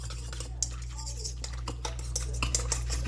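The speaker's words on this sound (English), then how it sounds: "I'm going to throw in the yeast and the half cup of flour, and then I'm going to just mix it." A utensil clinking and scraping against a bowl while mixing yeast and half a cup of flour for homemade burger buns, quick irregular taps over a steady low hum.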